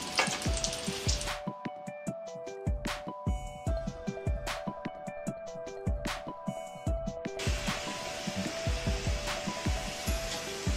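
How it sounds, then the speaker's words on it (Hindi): French fries hitting boiling hot oil for their second, final fry over a high flame, a dense, continuous crackling sizzle with sharp pops and bursts that carries on steadily throughout. "तेल एकदम बॉइलिंग हॉट हो चुका है, तो अब मैं ये सेकेंड फ्राई है जो कि फाइनल फ्राई है"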